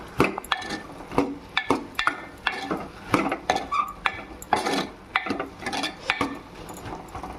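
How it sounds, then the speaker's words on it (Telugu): A ladle scrapes and clinks against a metal pan while bottle gourd curry is stirred, a steady series of sharp taps and scrapes roughly every half second, close and clear with no talking. "ఒకసారి మన గెరటి పెట్టి తిప్పుకుంటున్నాండి."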